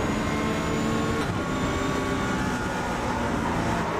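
Onboard engine roar from a Porsche 911 GT3 R race car during a GT3 race at Daytona in the iRacing simulator, a loud continuous drone with a brief shift or lift partway through.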